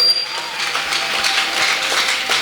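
A church congregation applauds during a Sunday worship service, a steady, dense wash of clapping hands from many people that holds at an even level throughout.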